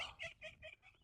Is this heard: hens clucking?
yes